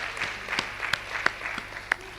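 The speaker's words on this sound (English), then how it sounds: "Please, can we give her another round of applause?" An audience at a national librarians' conference gives a lecturer another round of applause: steady, moderately quiet clapping from a crowd, with a few sharper individual claps standing out over two seconds.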